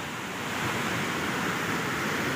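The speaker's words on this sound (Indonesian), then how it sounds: "Ombak besar." Dense, continuous roaring surf of big ocean waves at Patok Nogo fills the clip, a broad wash of crashing, foaming water with wind-like hiss and no voices.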